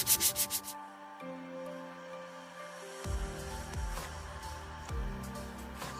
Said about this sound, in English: You want to sand all of this rough stuff right out.